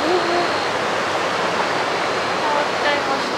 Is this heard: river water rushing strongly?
yes